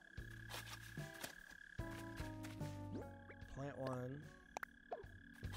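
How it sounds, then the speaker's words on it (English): A mole cricket in Animal Crossing: New Horizons keeps up a steady low croaking trill that runs through the whole stretch beneath game music and sound effects, while a person speaks briefly. "That mole cricket is so loud."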